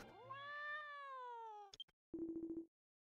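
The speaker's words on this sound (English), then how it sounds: "show the little cat to this big one." A small cat in Dragon Quest X gives one long, rising then falling meow, followed by a brief pause and a quick run of short, even chirping tones; the sounds are quiet, close and alone.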